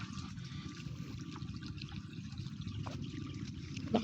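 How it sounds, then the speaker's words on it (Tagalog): Strong water rushing from a hose used for watering, a steady splashing flow with a soft trickling texture, fairly close and continuous, with no talk over it. "Lakas ng tubig."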